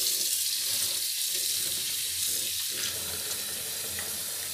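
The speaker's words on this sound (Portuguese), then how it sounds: "Vou espremer, enxaguar a buchinha aqui," A dish sponge being rinsed and squeezed under a running kitchen tap, a steady close hiss of flowing water with brief dips where the sponge is wrung out, no voices.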